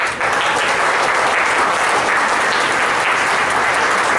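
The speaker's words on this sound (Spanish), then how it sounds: "Le damos un fuerte aplauso." An audience at a pizzeria re-opening gives a strong, sustained round of applause, loud and even from start to finish.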